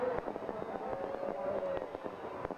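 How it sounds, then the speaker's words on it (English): Fireworks crackle and pop at a balloon fiesta, a dense run of sharp firecracker-like bursts heard from a distance under a murmur of crowd noise and a voice. "there go the pyrotechnics,"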